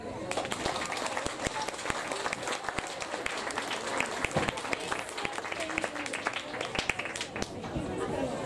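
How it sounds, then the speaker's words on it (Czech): Audience applause at a school Christmas show, dense clapping from many hands filling the room, steady and fairly close, with crowd chatter mixed in beneath it. "Potlesk!"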